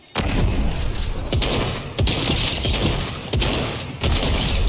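Rapid Fortnite gunfire crackles nearly nonstop with sharp booming impacts, loud and close, bursts landing about every second or two in a dense, continuous firefight.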